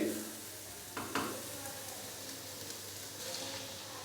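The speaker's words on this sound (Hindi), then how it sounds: "अंडे डालकर तो अच्छे से हम इसको मिक्स कर देंगे" Eggs stirred into egg roll filling cooking over a medium-low flame, a soft continuous sizzle with a couple of spatula scrapes near the start, fairly quiet throughout.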